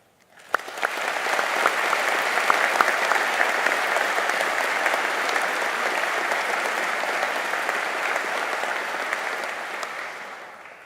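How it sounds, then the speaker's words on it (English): An audience at a Liverpool University graduation ceremony applauds, sustained dense clapping that swells in quickly, holds at an even level for about ten seconds in a large hall, then begins to taper. "There's a lot of clapping today"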